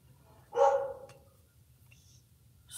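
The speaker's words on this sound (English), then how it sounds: "Some big doggy is upset." A big dog lets out a single loud bark that trails off, heard indoors over a faint low hum, with quiet background noise afterward.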